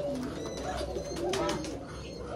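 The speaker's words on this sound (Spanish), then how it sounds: "Era una paloma corbatica aquí" A collared dove in a pigeon breeding loft gives soft, low, repeated cooing calls close by, with faint background noise and no speech.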